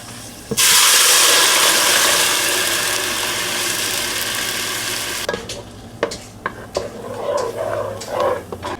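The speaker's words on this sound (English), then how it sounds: "So the onion is now officially fried, so we're gonna add in our sauce." Sauce poured into a pan of fried onions sets off a loud, steady sizzle that fades slowly, then gives way to scraping, clinking stirring with a spoon as the frying continues, close up and without talk.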